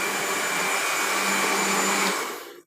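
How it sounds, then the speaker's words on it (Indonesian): An electric blender grinds kencur (aromatic ginger) to make jamu beras kencur, giving a loud, steady whirring motor drone that runs without talk and winds down at the end. "Setelah di blender"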